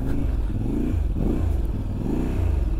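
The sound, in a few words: adventure motorcycle riding off-road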